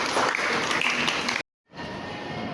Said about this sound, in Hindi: तालियां बजाएं बेटा इसके लिए।